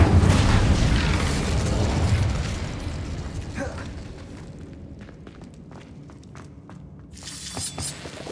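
An Incendio fire spell cast in the game Hogwarts Legacy, opening with a loud, booming whoosh of flame that fades out over a few seconds and leaves quiet footsteps and scattered clicks.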